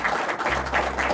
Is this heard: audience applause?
yes